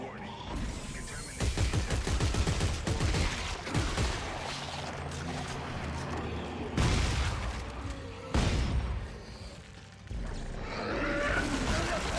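Explosives detonate in the sci-fi horror game Dead Space 3, with heavy booms and rumbling blasts that rise and fall over about twelve seconds amid clattering debris and game voices.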